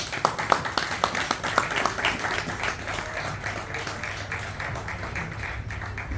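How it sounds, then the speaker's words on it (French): Wedding ceremony guests clap together in a burst of applause, sharp claps densest at the start then settling into a steady, softer patter of many hands over a low room murmur. "Je choisis la monogamie. Applaudissons."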